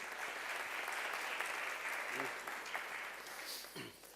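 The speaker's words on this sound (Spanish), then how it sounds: "Un aplauso para Jaime." Audience applause for a guest joining a panel debate, a dense, steady burst of clapping from a crowd, with a few voices faintly audible near the end.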